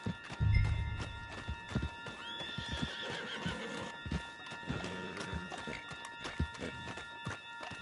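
Horses whinny and hooves clip-clop at a gallop in the video game Red Dead Redemption 2, mixed with scattered thumps and low background noise.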